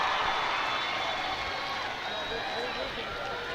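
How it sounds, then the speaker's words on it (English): A stadium crowd at a women's national team soccer match against Scotland gives an ovation, a sustained broad roar and applause heard at a distance, with commentators talking over it. "Getting a nice ovation from the crowd."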